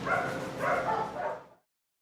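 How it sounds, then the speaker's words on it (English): A dog met on a walk at a dog training ranch gives a close, steady run of bark-like yelps and whines lasting about a second and a half, then stops into silence. "Oh, look, there's a dog there."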